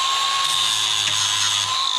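A power tool grinds a weld on a bolt of a junkyard Pontiac Fiero, giving a loud, steady high whine that holds throughout with a slight shift in pitch partway through.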